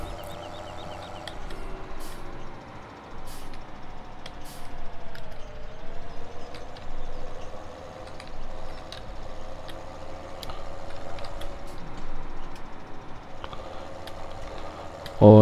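Farm vehicle rolling across a Farming Simulator 17 map toward the farmyard, a steady engine drone with light ticks and clicks, fairly constant throughout with a brief dip midway and a louder bump at the end.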